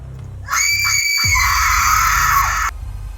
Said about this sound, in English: Then Aqua screams in pain